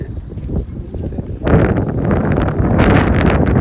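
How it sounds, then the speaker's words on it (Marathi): Strong wind buffets a boat on a family trip, starting as a moderate rumble and then surging into loud, gusty roaring against the microphone from about a third of the way in. "फुल हवा आहे हवा"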